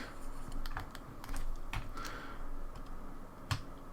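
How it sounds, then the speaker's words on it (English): Computer keyboard shortcut keys pressed while sculpting in ZBrush, sharp clicking taps in irregular bursts, close and clear over faint background noise. "I'm pressing all sorts of shortcut keys"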